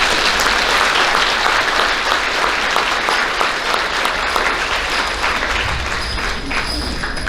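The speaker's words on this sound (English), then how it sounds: "Let's go ahead and give those students a round of applause." Crowd at an elementary school awards ceremony gives students a round of applause, loud continuous clapping from many hands filling the room at a steady level throughout.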